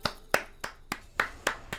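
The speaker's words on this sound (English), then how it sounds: "Little gentleman's clap." Seven slow, deliberate hand claps ring out alone, evenly spaced and fairly quiet: a small, polite gentleman's clap with no voices around it.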